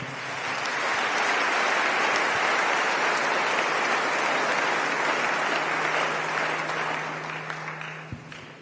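Church congregation applauding steadily during a sermon, a dense sustained clapping that holds for several seconds and then fades toward the end, with a faint low hum underneath.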